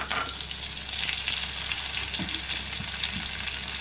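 Cumin, dried red chillies and curry leaves crackling in hot oil as a tempering, making a loud, continuous sizzle with a few low stirring knocks near the end, close-up and uninterrupted by voices.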